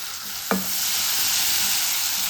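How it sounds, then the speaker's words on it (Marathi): Crisp onion is stirred into hot tempering oil, giving a loud, steady sizzle throughout, with a single sharp scrape of the spoon near the start and no talking. "कांदा आहे तो थोडा कुरकुरीत झालेला आहे तर मी सुद्धा फोडणीमध्येच घालून घेणार आहे"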